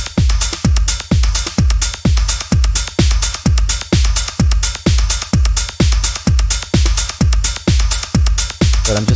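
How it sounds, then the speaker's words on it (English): A fast, steady electronic drum groove with punchy, evenly spaced hits repeating loudly for the whole stretch, no voices. "now here's the snare."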